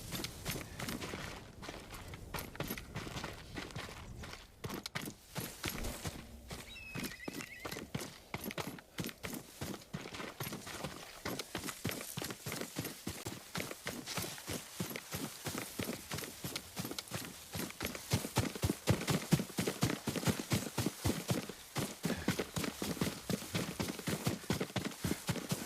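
Horse hooves clip-clop at a steady pace during a ride in the video game Ghost of Tsushima, a long run of crisp, evenly spaced hoofbeats that quicken and grow louder partway through, with no talking.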